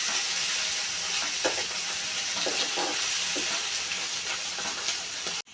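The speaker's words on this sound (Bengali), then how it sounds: "দিয়ে দিলাম কেটে ধুয়ে রাখা চিংড়ি মাছ। চিংড়ি মাছও ভেজে নিচ্ছি।" Chopped onions and cleaned shrimp frying in a pan, a loud, steady close-up sizzle with a few soft stirring scrapes, ending abruptly, no voices.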